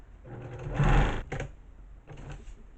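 Close-up sewing machine stitching quilt binding: a short burst of rapid motor-driven stitching, a brief pause, then a second quieter run.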